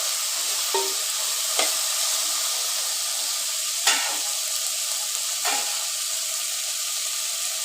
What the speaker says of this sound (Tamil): நல்லா ஃப்ரை பண்ணிக்கணும்.